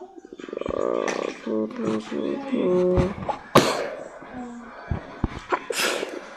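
A single sharp sneeze bursts out midway through ongoing chatter, with people talking before and after it.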